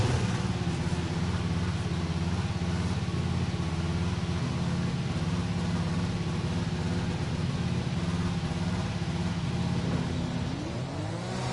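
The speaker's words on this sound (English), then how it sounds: "Engine fired, we're set." A Formula 1 car engine running steadily in F1 2020 during practice at Singapore, a constant mid-pitched engine drone held at an even, fairly quiet level throughout with no pauses.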